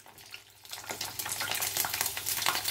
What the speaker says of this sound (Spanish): voy friendo el cochinillo a temperatura muy alta